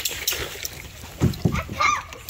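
Canoe turning on a swamp creek, with a few short paddle splashes and sloshes of water close by amid quiet outdoor background.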